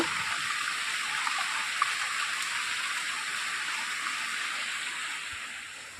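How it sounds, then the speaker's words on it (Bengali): Steady early-morning rain falls in an even, continuous hiss, moderately quiet and unbroken with no voices. "খুব সকাল সকাল বৃষ্টি নেমে বসে গেল"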